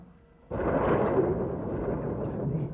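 Thunder during a storm in a horror drama, a sudden loud crack after a quiet half second that rolls on as a long, heavy rumble to the end.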